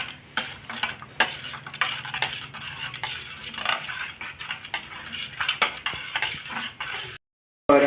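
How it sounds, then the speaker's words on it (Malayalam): A spoon stirs maida into coconut milk in a bowl for jackfruit halwa, with repeated clinks and scrapes against the dish in an uneven rhythm, close and fairly loud, then a short silence. "ചേർത്തിട്ട് നല്ലപോലെ ഇളക്കുകയാണ്"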